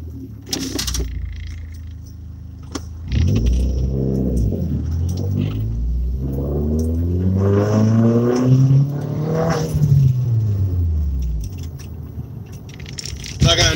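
A car drives through city streets with engine rumble rising and falling through gear changes, sweeping pitch as it accelerates, and small cabin rattles and key jingles up close.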